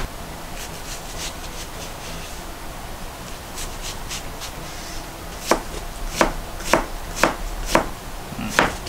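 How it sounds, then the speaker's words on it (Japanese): A knife chops a skin-on apple finely on a board: light scraping at first, then a run of sharp, evenly spaced chops, close and clear, with no talking. "こんな感じでね、あのリンゴ細かく、していきます。"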